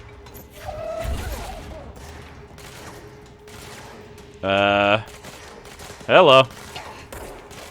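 Gunfire from the video game Control, with a quick burst of shots and thuds early on followed by two short, loud bangs later, under and between a few spoken words.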